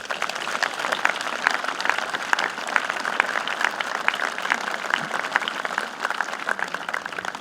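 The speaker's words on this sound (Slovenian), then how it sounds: "Dajmo en aplavz za to sporočilo" A crowd at an outdoor commemoration ceremony for freedom and peace in Poljana applauds steadily, many hands clapping in a sustained, even wash at moderate loudness with no talk over it.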